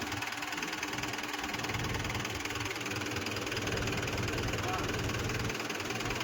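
A tractor engine runs steadily the whole time while levelling soil on a farm plot, giving a continuous mid-to-low rumble with a knocking, vibrating edge. It stays fairly close and even throughout.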